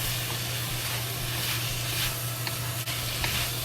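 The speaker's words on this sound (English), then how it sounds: "The kale need to fry a little well." Lacinato kale stir-frying with shredded pork in a wok, giving a steady, dense sizzle with soft scraping stirs throughout and no talk.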